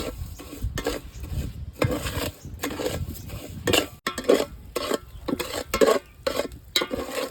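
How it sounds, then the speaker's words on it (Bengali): Sugar melts dry in a pan without water while a utensil stirs it steadily. Repeated scraping strokes clink against the pan in an even rhythm, close up, with no talking. "আস্তে আস্তে করে নাড়িয়ে যেতে হবে নয়তো বাসন পুড়ে যাবে"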